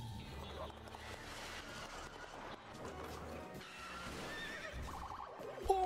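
A cartoon horse neighs and whinnies amid a noisy, faint background with clattering and rumbling.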